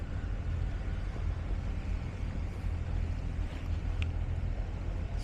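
Steady low engine drone of a small boat motor off Hvar island, Croatia, with wash and wind noise, continuous and fairly near, no voices.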